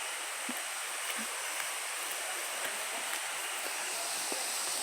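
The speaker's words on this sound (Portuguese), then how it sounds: "Viemos conhecer uma cachoeira aqui." Steady broadband rush of a waterfall in a natural setting, continuous and fairly loud without breaks, with a few faint ticks scattered over the constant roar and no voices.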